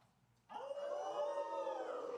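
A single wolf howl rises suddenly out of near silence and holds a long, steady, wavering tone, loud and close, with no other sounds around it.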